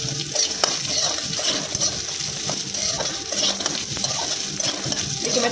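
Onions frying lightly in a pan give a steady close sizzle, broken by occasional scrapes and clinks of a stirring spoon, with no voices.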